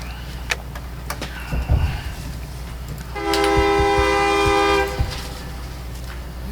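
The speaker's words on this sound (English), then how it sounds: "Here comes the train." A train passes a city council meeting, with a sustained, loud horn blast of about two seconds over low rumbling and faint room noise, followed by fading rumble.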